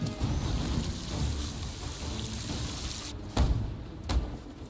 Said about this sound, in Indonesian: Oh, suara hujan di rumah juga jadi.